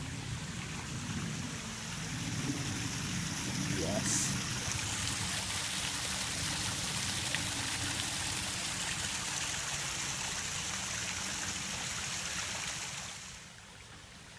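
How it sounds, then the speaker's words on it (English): A forest park creek flows in a steady, dense rush close by, continuous for most of the stretch before softening near the end, with a brief spoken word. "this is the creek right here"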